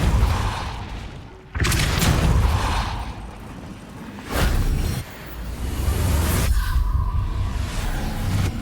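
Depulso spell blasts in the Hogwarts Legacy video game, heavy whooshing booms bursting in three loud surges with brief dips between, game ambience filling the gaps.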